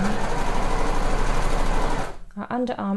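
A sewing machine stitches a sweatshirt side seam in one continuous fast, even whirring run that stops abruptly about two seconds in, after which someone speaks.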